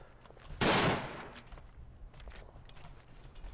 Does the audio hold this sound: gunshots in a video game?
yes